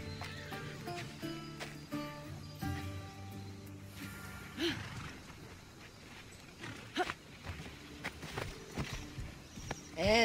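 A horse ridden in a video game, hooves clip-clopping at a walking pace with neighs and whinnies, close and clear over faint background sound.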